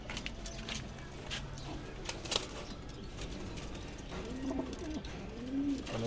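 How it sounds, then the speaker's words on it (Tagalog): Racing pigeons coo softly in a loft, low repeated coos and a flutter of wings amid faint background chatter and ambient noise. "So ito yung bumalik sa akin na ibon ni Omi Sarben."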